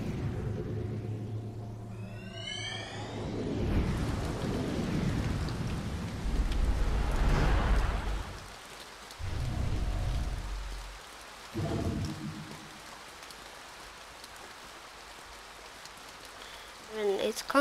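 Rain patters and thunder rumbles in the video game To the Moon, heavy low rolls swelling and fading over a steady downpour, with speech over parts of it.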